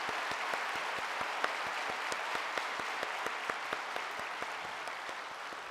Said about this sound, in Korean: 우리 아드님 또 손주들 위해서 한번 축복의 박수 한번 하면 좋겠습니다